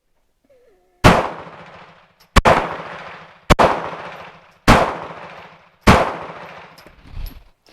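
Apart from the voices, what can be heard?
pistol being fired at a target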